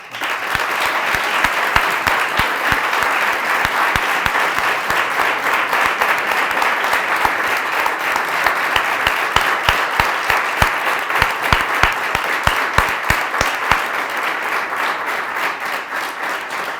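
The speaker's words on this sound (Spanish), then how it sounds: "Yo pido un aplauso." An audience at a film music festival master class applauds steadily, dense clapping from many hands that holds for a long stretch before easing slightly at the end.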